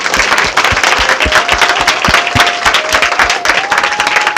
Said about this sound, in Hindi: प्रभु के महिमा के लिए जोरदार ताली हो जाए।